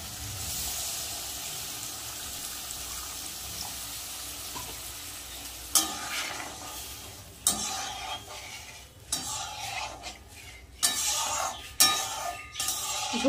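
Water tips into hot, sizzling fried masala in a pan for a Bengali bhetki fish curry, a steady frying hiss giving way to sharp bursts of crackling sizzle and stirring, close and fairly quiet.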